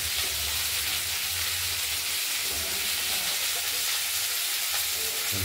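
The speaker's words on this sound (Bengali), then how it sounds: "শিমগুলো আমরা প্রথমে ভেজে নিই" Flat beans frying in a hot pan, giving a loud, continuous sizzle with steady hiss that holds even from start to finish.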